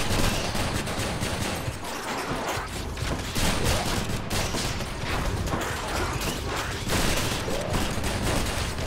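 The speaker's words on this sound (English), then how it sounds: "Now we got a shotgun." Shotgun firing in the video game Hades, rapid repeated blasts in a steady rhythm over busy combat noise, loud and close throughout.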